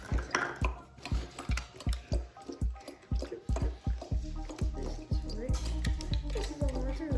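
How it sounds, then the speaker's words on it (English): Water from a leak drips in a steady rhythm, close and distinct, with each drop a sharp plop, and the pace quickens toward the end. "This is a water leak."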